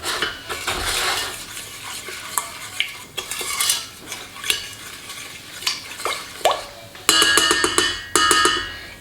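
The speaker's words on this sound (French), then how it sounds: "Et on va mélanger le sucre et l'eau" Sugar and water stirred together in a pan for caramel, a spoon scraping and clinking against the metal in uneven strokes, close and fairly quiet, with a burst of quicker rattling near the end.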